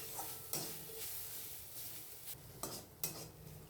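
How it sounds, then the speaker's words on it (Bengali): Grated coconut is stirred and fried in a wok for a Bengali pitha filling, with a faint sizzle under scattered scraping clinks of a spatula against the pan. "এবারে দিয়ে দেবো কড়াতে, দিয়ে এটাকে ভালো করে ভেজে নেব।"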